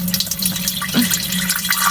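A steady stream of liquid splashes into toilet water, close and fairly loud, with a low continuous hum underneath and a short tonal blip near the middle.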